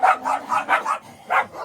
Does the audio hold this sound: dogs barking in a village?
yes